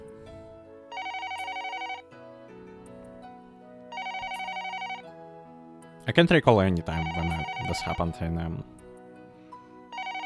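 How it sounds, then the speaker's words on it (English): A landline telephone rings indoors in repeated bursts with pauses between, fairly loud and near, while a person talks over the later rings. "Surprisingly, the phone in the room is ringing."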